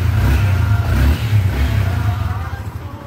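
A Yamaha Y15 motorcycle engine with a timing fault that makes it hard to start, running loud and close with uneven revving that rises and falls over a rough idle.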